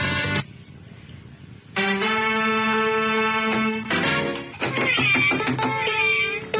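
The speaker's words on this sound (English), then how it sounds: "It was meowing" Cat meowing during a radio talk show segment: a few drawn-out, tonal meows with wavering pitch, loud and close, and a short gap between calls.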